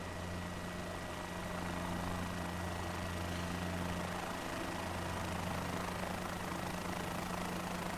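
Steady helicopter engine drone from a flight video game, a continuous low hum with a constant whirring rotor tone, even and unbroken throughout.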